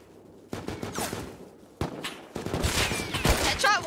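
Sniper rifle fire from a rooftop during a raid in Rust, with several sharp, loud gunshots at irregular intervals and echoing tails, mixed with other crackling combat noise and a short high whistle near the end.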